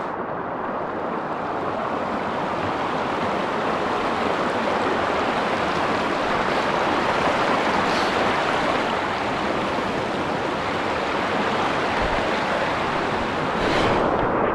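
A river in the Himachal Pradesh mountains rushes past with a broad, steady hiss of water flowing over stones near a log crossing. The flow stays loud and continuous throughout, with no voices.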